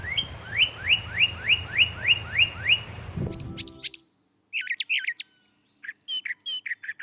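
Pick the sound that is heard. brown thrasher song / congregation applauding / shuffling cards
brown thrasher song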